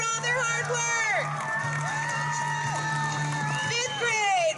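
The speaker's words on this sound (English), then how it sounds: "Let's cheer them on for all their hard work." A school crowd of children cheers and whoops for honor roll students at an assembly, a sustained loud wash of excited voices with some shouted calls rising above it.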